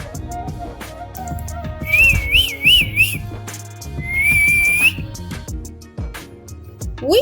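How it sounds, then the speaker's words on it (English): A person whistles a few short wavering tones, then one longer rising note, clear and close over light background music in a children's body-sounds lesson. "Whistle."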